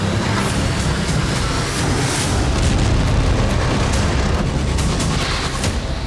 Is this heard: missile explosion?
yes